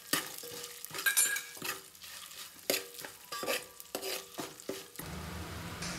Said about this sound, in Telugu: నెయ్యి హీట్ అయిన తర్వాత బిర్యానీ దినుసులు, కొన్ని బిర్యానీ ఆకులు వేసుకొని ఫ్రై చేసుకోవాలి